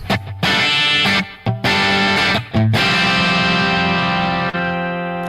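Sustained chords from a 1951 Telecaster electric guitar ring out through tape echo and reverb, the sound smearing and trailing between strums, loud and close.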